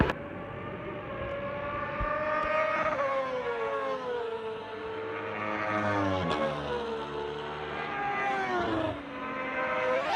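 Race cars lapping a track during a summer race weekend, their engines whining in layered, rising and falling pitches as they pass, loud and continuous throughout with no talk.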